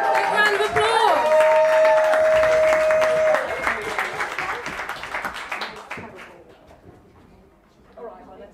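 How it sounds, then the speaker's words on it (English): Audience applause and cheering for a poet at a poetry slam, loud and sustained at first, then thinning out over several seconds, with voices and shouts mixed into the crowd noise. "Big round of applause."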